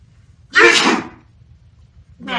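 A single sharp, loud sneeze from an animated character bursts out alone, followed by quiet and the start of another sound at the very end.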